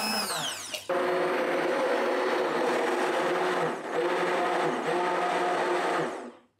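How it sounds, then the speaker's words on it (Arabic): A hand blender whirs steadily through caramel cake batter after a short clatter at the start, its motor holding a loud even drone for several seconds before cutting off abruptly. "انا عن نفسي هضربه بالهاند بلندر"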